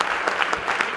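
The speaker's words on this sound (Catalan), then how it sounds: "Ovació per a Palomares." Football crowd at a Spanish lower-division match between U.D. Alzira and S.C. Requena applauds a substituted player, a dense, steady wash of clapping from many spectators, brief and moderately loud.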